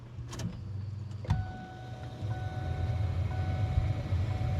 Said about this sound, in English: we'll go ahead and try out our new blower motor.